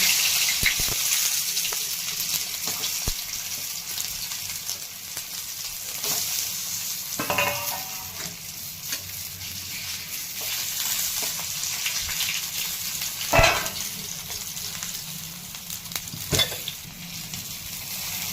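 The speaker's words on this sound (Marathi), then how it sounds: "तर तव्यामध्ये ह्या वड्या टाकून" Alu vadi slices, made from colocasia leaves, fry in oil on a flat tava, giving a steady, close sizzle with occasional sharp crackles and scraping taps as they are moved.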